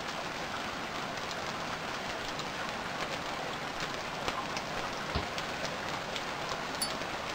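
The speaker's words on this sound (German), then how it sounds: "Es regnet." Steady rain falls in the survival video game Stranded Deep as an even hiss of drops, with a few louder taps and no speech.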